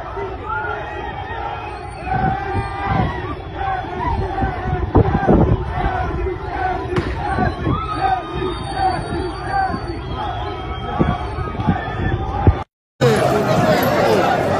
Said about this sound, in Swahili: Hili ni gari la jeshi limezingirwa na wananchi wanashangilia